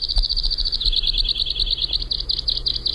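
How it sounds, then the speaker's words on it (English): A stocky finch with black wings, double white wing bars, a short notched tail and a thick bill gives a rapid, even series of high, bright chirps that carries on steadily against faint background hiss. "Our mystery bird is a stocky finch with black wings and double white wing bars, along with a short notched tail and a thick, very specialized bill."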